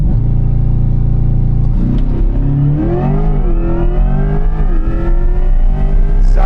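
Corvette E-Ray launching hard and accelerating, a loud continuous drone with rising, sweeping engine and drivetrain tones that climb steadily across the run, close and without talk.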